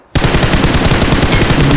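Sustained automatic gunfire from PUBG Mobile, a rapid, steady rattle of shots that starts abruptly and stays loud and close for the rest of the clip.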